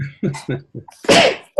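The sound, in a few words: sneeze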